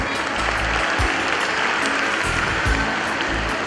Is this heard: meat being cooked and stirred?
no